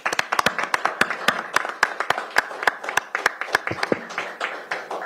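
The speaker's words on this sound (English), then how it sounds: "Let's give them a round of applause." Audience at a Pierce County Council meeting claps, a sparse scattering of distinct, close hand claps with uneven rhythm, thinning slightly toward the end.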